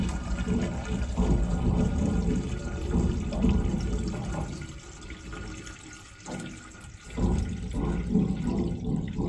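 Water pours into the inner bucket of a GDY-1A+ oxygen bomb calorimeter, a soft continuous splashing and trickling that dips briefly before resuming, close and fairly quiet.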